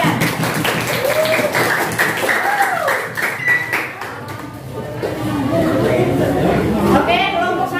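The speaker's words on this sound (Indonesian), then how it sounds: "tepuk tangan untuk teman kalian" A school class applauds classmates, with a burst of clapping early on mixed with chatter, followed by a teacher's voice and more talk.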